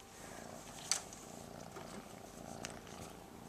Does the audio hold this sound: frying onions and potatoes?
no